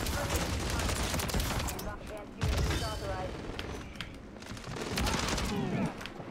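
Gunfire rattles in the Call of Duty MW3 video game in repeated automatic bursts, with several sharp shots and explosions mixed in, all moderately loud, while someone talks in between.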